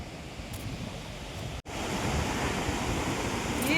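A fast-flowing waterfall roars as a steady, dense wash of broadband noise, close and loud, with one brief dropout partway through and no voices.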